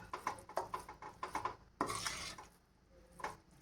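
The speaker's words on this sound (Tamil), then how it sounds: "நல்லா ஒரு ஒரு நிமிஷம் கிளறிட்டு அடுப்பை ஆஃப் பண்ணிடலாம்" Madurai-style karupatti (palm jaggery) bun halwa being stirred in a pan, with a series of close, quiet scraping and patting strokes in quick succession that ease off toward the end.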